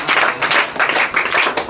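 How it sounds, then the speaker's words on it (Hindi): A group of schoolchildren claps loudly for a student, giving dense, continuous, close applause that fills the whole stretch. "इनके लिए जोरदार ताली बजाओ।"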